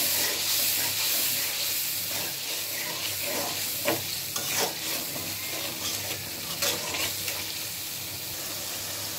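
Spice masala for fish dopiaza being stir-fried in a pan with cumin powder and salt, a continuous sizzle broken by repeated spatula scrapes and hissing bursts.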